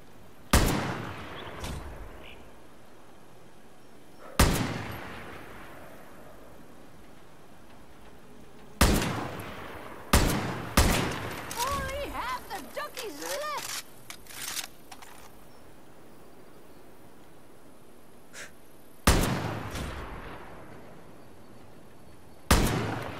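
Sharp single gunshots crack out at irregular intervals in Far Cry New Dawn, about eight loud reports with ringing tails, plus a cluster of quicker shots and faint chirping sounds midway.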